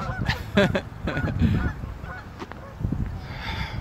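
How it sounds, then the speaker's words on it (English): Geese honk repeatedly, a busy cluster of calls at moderate distance in Windsor, Ontario, with faint rustling and ambient noise in between. "Oh, the whole bunch of geese over here again."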